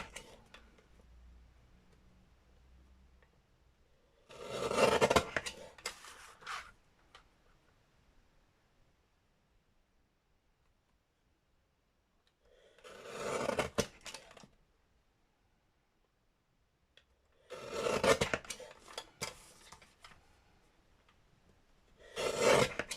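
A paper trimmer blade slices through paper for journaling cards in four separate scraping, mechanical bursts spaced by quiet pauses, close and fairly soft.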